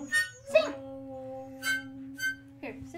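Dog howling in a home, long sustained tonal howl held across the clip with rising yips and whimpering bursts, fairly near, over a low steady hum.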